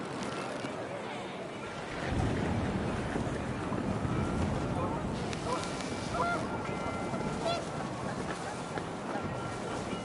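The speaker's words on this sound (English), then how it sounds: "The wind picked up, and panicked geese appeared and quickly went." Panicked geese honk through gusting wind in the video game What Remains of Edith Finch, the blustery roar swelling after a quieter start and carrying on steadily beneath scattered honks.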